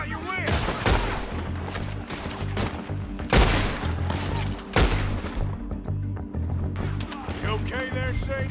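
Rapid bursts of gunfire crack through a Red Dead Redemption 2 shootout, with dense volleys and several loud heavy shots across a busy firefight.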